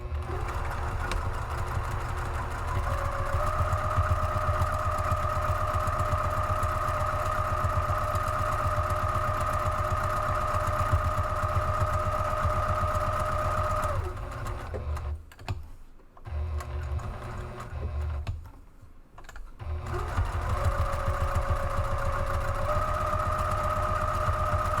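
A sewing machine runs steadily for about fourteen seconds, stitching down the open edge of a fabric strap for a divided caddy, then pauses briefly and starts again, whirring close and alone without voices.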